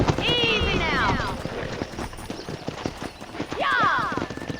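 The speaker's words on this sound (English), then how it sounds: "there's a pack of odd horses nearby" Horses clip-clop and gallop in the Red Dead Redemption video game as a pack of odd horses runs near a ranch; dense hoof beats sound throughout, with two whinnies rising over them, near and fairly loud.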